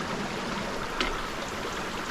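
A river flows in a wet mountain wilderness, giving a steady, even rush of water close by with one small splash partway through and no voices.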